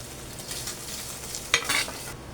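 Soft steady sizzle of onion and garlic frying in butter in a pan, close but faint, with a brief louder stir-and-crackle burst near the end, no talking.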